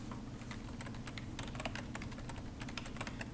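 Quick, steady keystrokes on a computer keyboard as a username is entered on a Windows 7 machine, a continuous run of close, moderately soft clicks with no talking.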